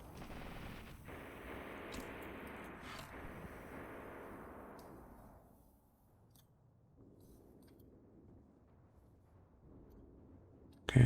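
Machine gun fire rattles in the war game Graviteam Tactics as a dense sustained burst for about five seconds, then fades to quieter, scattered distant firing.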